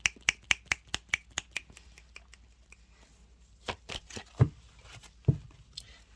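Tarot cards being shuffled, giving a series of sharp, crisp snaps at a steady rhythm at first that then grow sparser, with a few louder riffling bursts near the end.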